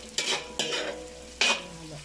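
Kikiam sizzles in hot oil while a utensil scrapes and stirs in three distinct strokes, close up.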